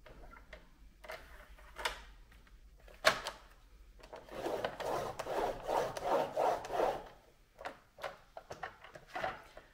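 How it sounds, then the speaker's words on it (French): Card paper is folded and creased by hand into a box, with close, quiet rubbing and scraping strokes and a few sharp taps, building into a longer run of firm rubbing in the middle. "je vais faire un pli à 1 cm du bord"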